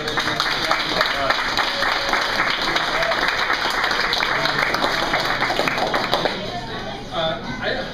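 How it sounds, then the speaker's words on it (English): A crowd at a post-season football party gives a round of applause, with dense, close clapping mixed with voices that continues steadily before thinning out near the end. "just give a quick round of applause for David."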